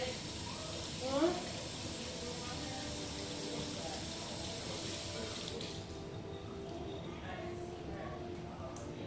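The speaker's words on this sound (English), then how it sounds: "Washing my hands." A kitchen tap runs steadily while hands are washed under the water, a faint continuous hiss and splash with a brief voice early on.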